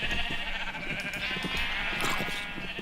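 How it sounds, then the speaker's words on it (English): Sheep bleat in a video game, a steady wavering cry layered over dense, busy game noise that continues throughout. "Hey, sheep!"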